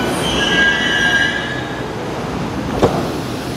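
A Moscow metro train, a 2016-built articulated unit with walk-through gangways, runs on the Bolshaya Koltsevaya line toward Pechatniki, its wheels squealing high and steady at first before the squeal fades into a constant rolling rumble with a brief knock near the end.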